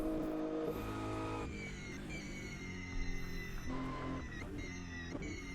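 Race cars in the Automobilista 2 video game lapping Le Mans' Circuit de la Sarthe in a multi-class field, several engines droning and shifting pitch steadily and loudly as they pass, with no talk over them.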